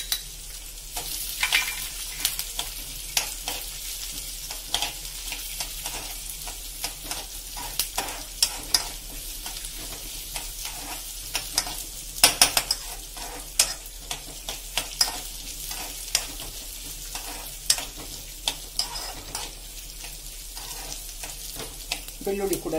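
Cumin seeds sizzling in a hot pan while being stirred, a steady crackling fry with scraping stir strokes throughout, close and fairly loud.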